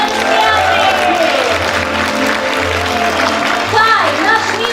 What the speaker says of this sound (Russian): Аплодисментами поблагодарим наших артистов.